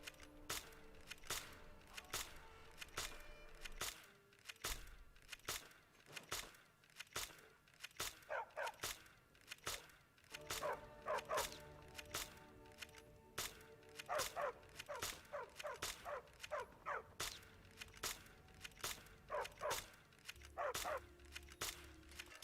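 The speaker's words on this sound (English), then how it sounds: "Need a trained war dog? Fiercest companion money can buy." War dog barking in the video game Fallout New Vegas, repeated sharp barks in a steady rhythm, some doubled, over low background sound.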